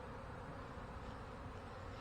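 Honeybees attacking around a beekeeper checking for queens and queen cells make a steady, dense, close buzzing that fills the air without a pause.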